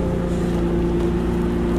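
Exhaust of a Nissan 350Z sports car gives a close, steady, deep engine rumble with no pause, loud and without any voices over it.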